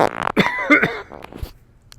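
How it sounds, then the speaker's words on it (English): A single short, harsh cough bursts out near the microphone, followed by a brief rough exhale, with quiet room tone after. "I'm going to cough, excuse me."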